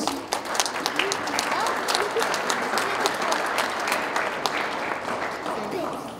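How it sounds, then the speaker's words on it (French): Audience at a commemoration ceremony applauding steadily, a full, continuous wash of clapping from many hands lasting throughout, near and fairly loud. "je pense qu'on peut les applaudir"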